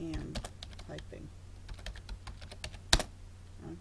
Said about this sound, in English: you can actually type in, I am typing.